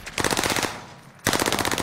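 Rapid automatic gunfire from a video game rattles in two loud, close bursts, separated by a short fading gap.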